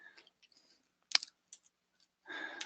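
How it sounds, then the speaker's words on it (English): Typing on a computer keyboard during a Windows system-assessment demonstration: scattered soft key clicks, one sharp louder strike near the middle, then a denser burst of rapid keystrokes at the end, close and alone. "Excuse my typing in public."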